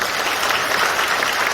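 An audience at a People Power Party members' training event in Gumi claps steadily to welcome lawmaker Bae Hyun-jin, a dense, even round of applause heard loud and close with no voices on top.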